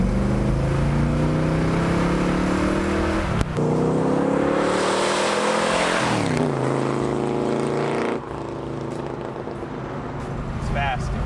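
A 1967 Chevelle with a 454ci V8 pulls hard in second gear, its loud engine note climbing steadily in pitch, dipping briefly at a shift, then building again, heard from inside the car.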